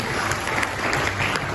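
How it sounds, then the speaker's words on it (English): Audience at an ECDF awards and insights event in Dubai gives a round of applause for teachers, steady dense clapping from a large crowd filling the whole moment. "A big round of applause for teachers."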